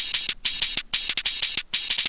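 Drum and bass style hi-hat loop from a sample library: loud, bright, hissing hats in a fast, syncopated pattern with short gaps, repeating over about two seconds, with no other sounds.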